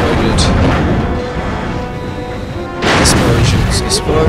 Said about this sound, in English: Whoa! That thing exploded.